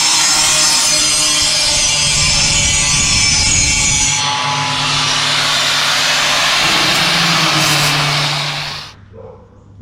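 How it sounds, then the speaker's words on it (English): Angle grinder grinding down rough oxy-cut metal edges on a Mercedes-Benz Unimog camper box: a loud, steady high-pitched whine with harsh gritty grinding that shifts tone midway, running continuously before cutting off near the end. "After using the oxy, we have to grind down the edges because they're not very pretty."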